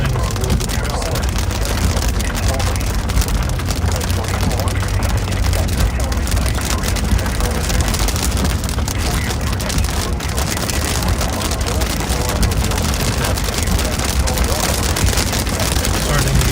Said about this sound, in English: Starting to get a little bit more heavy rain.